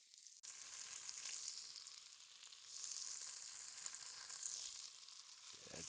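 Onion browns in melted butter in a pan for potato soup, giving a continuous bright sizzle and crackle at moderate level, swelling a little partway through, with no talking.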